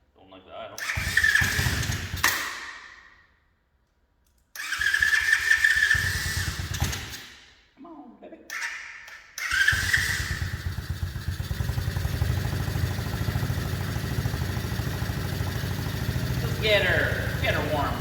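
A Tao Motors DB20 pit bike engine cranks in short bursts, stops, then catches and settles into a steady, close buzzing idle that continues alone.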